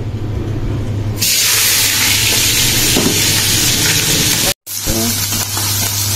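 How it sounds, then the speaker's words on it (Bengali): Garam masala hits hot oil in a pan after eggs have been fried, giving a sudden loud, steady, broad sizzle that cuts out for a moment and then resumes. "ডিম ভাজা হয়ে গেছে, এখানে গরম মশলা দিয়ে দিলাম।"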